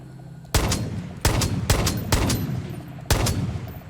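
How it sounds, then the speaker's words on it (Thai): Gunfire in the video game Far Cry 5: five loud, sharp shots spaced about half a second to a second apart, each with a short rattling tail, over quiet background ambience. "ขอยิงลูกก่อนแล้วกัน"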